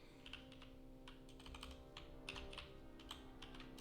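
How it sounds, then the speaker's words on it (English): Quick, irregular clicks of a computer keyboard being typed on at a late-night live-streamed game-development session, faint and close, with brief pauses between bursts of keystrokes. "I suck at typing tonight."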